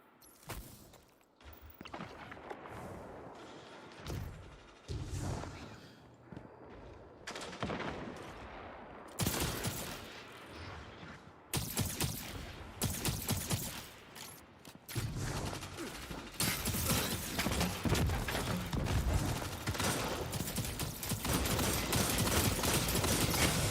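Video game gunfire from a gun fired by pulling and releasing the trigger, heard as repeated loud cracks and bursts over gritty mechanical clatter. It is irregular at first and then becomes a dense, sustained barrage toward the end.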